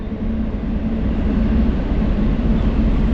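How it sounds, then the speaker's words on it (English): Train rolling past on the far side of an icy river beside a camping spot, a steady, loud low rumble with no breaks and nobody speaking. "I'm really liking the train"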